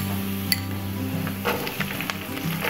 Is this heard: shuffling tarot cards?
no